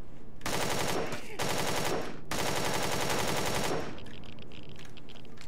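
Bursts of automatic gunfire in the sci-fi survival game Empyrion - Galactic Survival, two long rapid volleys separated by a short pause, loud and close, then fading to quieter ambience.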